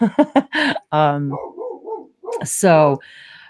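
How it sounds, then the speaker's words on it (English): A dog barks indoors in a few sharp yaps early on, then again near the end, mixed in among a person's talking during an online group conversation. "So sorry about my dog, you guys, if it's loud."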